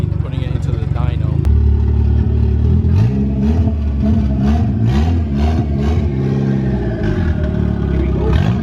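Turbocharged Honda Integra engine revs on a dyno, rising and falling in repeated throttle blips with clattering mechanical texture, loud and close, with a voice speaking over it at times.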